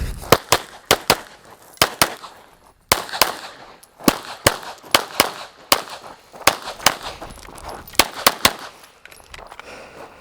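Glock 17 Gen 6 pistol fired during USPSA shooting-and-moving practice, sharp loud gunshots in quick irregular strings of two to four with short gaps, around twenty shots in total, echoing outdoors.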